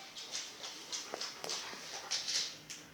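Charlie, a dog in a training session, gives soft, faint whimpers and small yips in short bursts, spaced unevenly, with a quiet room around him and no talking.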